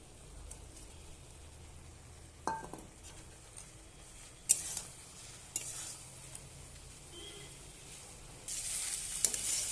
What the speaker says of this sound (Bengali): আমি ভেজে রাখা পনিরটা দিয়ে দেবো